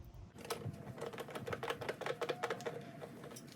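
Screws being driven into the housing of a 4-gallon 4.5 HP Shop-Vac, a steady rapid ratcheting whir with clicking pulses, close and moderately loud, without speech.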